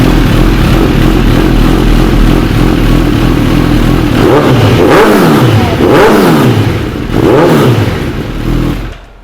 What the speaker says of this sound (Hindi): we should go and hear the note of the bike, which is amazing